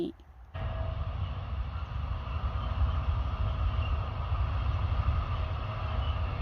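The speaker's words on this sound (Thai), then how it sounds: "อันนี้เพิ่นเป็นรถขนไม้นะคะ รถขนไม้" A German freight train carrying timber rumbles steadily past at close range, a low continuous roar of wheels and cars that stays loud throughout.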